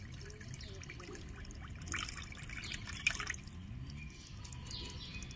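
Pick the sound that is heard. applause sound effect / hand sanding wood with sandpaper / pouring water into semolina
pouring water into semolina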